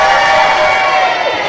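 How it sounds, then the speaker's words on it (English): Mixed-age family audience at a science talk cheering and shouting loudly, children's voices prominent, a dense sustained roar of crowd noise throughout. "Give me a big cheer."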